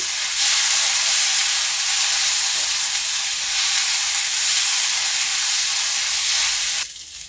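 Three dry red chillies fry and are stirred in hot oil in a pan while cooking a mixed-vegetable ghonto, giving a loud steady sizzle close by that drops off abruptly near the end.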